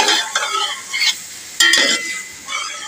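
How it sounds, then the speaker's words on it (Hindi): Onions frying in hot ghee in a pot while cooking handi, giving a broad steady sizzle with stirring scrapes and a few sharper clanks, close and fairly loud, with no talk. "पहले घी को गर्म करते हैं और उसके बाद फिर प्याज डालते हैं इसमें"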